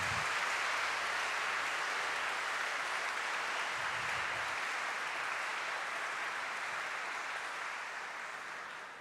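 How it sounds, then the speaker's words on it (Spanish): Steady audience applause fills a church during a Mass for the Virgin of Copacabana, a dense, even wash of hand claps that runs unbroken for the whole stretch and fades slightly at the end. "pido fuertes palmas"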